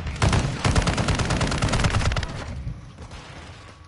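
Shotgun fire in Call of Duty: Modern Warfare II, a dense run of loud, close blasts that come quickly one after another, then thin out and fade over the last second.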